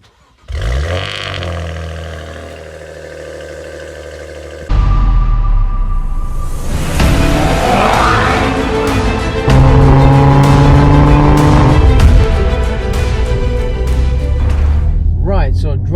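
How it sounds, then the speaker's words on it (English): A Maserati Ghibli engine starts by remote start, heard from outside the car: a brief low cranking and catch, then a loud, steady rumble that settles into a sustained idle for the rest of the clip. "You can hear your car start from the outside."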